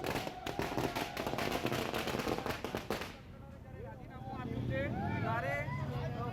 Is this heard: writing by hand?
no